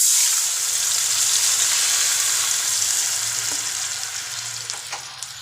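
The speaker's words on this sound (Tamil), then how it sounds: "ஒரு ஒரு ஸ்பூன் போல் எண்ணெய் ஊற்றிட்டு கடுகு உளுந்தம்பருப்பு போட்டு கொஞ்சம் சின்ன வெங்காயம் கட் பண்ணி போட்டுக்கோங்க" Mustard seeds, urad dal and chopped shallots tempering in a spoonful of hot oil for a coconut-peanut chutney, giving a steady close sizzle and crackle that fades slightly toward the end, with a few faint pops.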